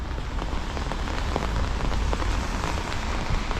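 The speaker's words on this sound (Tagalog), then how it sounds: "Yan guys, umulan no." Steady, dense rain pours down at night, a continuous loud patter on surfaces close by with no break.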